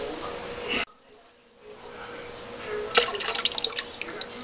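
Water poured from a pan into a fermenting bucket while making homebrew skeeter pee, rinsing sugar residue off the pan's sides; after a brief quiet gap, splashing and dripping pick up and continue, close and moderately loud.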